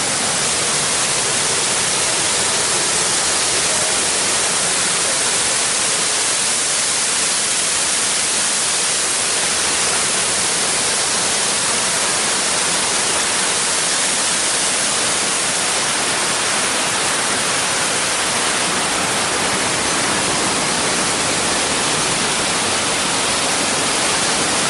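Waterfall in Rouken Glen Park, Glasgow, a constant broadband roar of falling water, loud and close, unbroken and steady for the full length with no voices.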